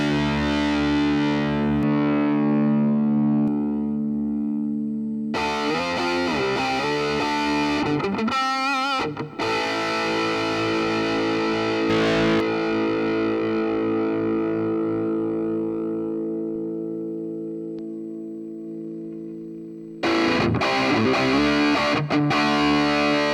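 Distorted electric guitar run through AmpliTube cabinet simulation, loud sustained chords and riffs with a heavily saturated tone, a few pauses and changes in texture, ringing out between bursts, with no talking.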